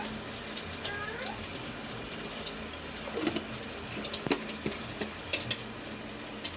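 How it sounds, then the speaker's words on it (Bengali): An egg poaching in a home kitchen wok gives off a steady sizzle, with scattered clinks and stirring clatter running throughout at moderate loudness. "এই তো দেখা যাচ্ছে ডিমের পোচ হচ্ছে"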